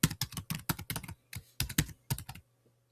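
Rapid bursts of typing on a computer keyboard: crisp, close key clicks in quick clusters with short pauses between them, trailing off into silence at the end.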